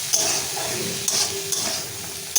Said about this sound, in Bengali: দিয়ে এটা হালকা ভালো করে একটু ভেজে নেবো, বেশি ভাজবো না।